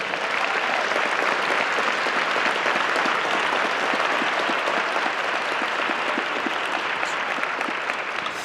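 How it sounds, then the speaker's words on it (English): A summit audience applauds the HeForShe team in a big hall, a steady, dense wash of many hands clapping that holds at a constant level for the whole stretch with no voices on top. "Big round of applause to them, by the way."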